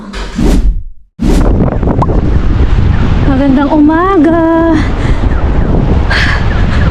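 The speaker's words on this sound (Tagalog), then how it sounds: "Umagang sobrang mahangin." Heavy early-morning wind buffets the microphone with loud rumbling gusts outdoors at a house renovation, while a person speaks briefly and a voice-like tone rises and falls midway.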